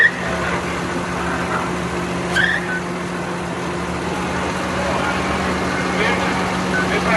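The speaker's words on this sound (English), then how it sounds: "And the tractor's going." A tractor engine runs steadily, a low constant drone that fills the whole stretch at moderate distance, with faint voices in the background.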